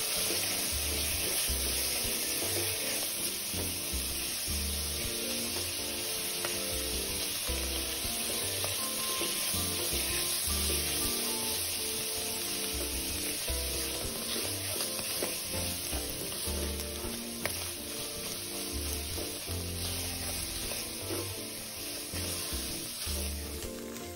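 Minced meat, diced shiitake mushrooms and chopped soaked dried shrimp stir-frying in a wok, a loud steady sizzle with scraping stirs running continuously throughout, no voices.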